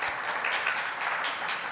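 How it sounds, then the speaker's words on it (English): Conference audience applauding at a company culture and talent event, a steady dense patter of many hands clapping throughout, fairly distant and moderately quiet with no voices over it. "Big round of applause."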